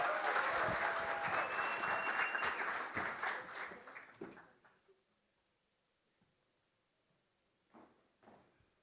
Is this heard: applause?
yes